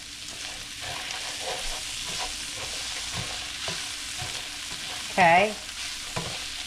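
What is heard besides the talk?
pasta toasting in a hot pan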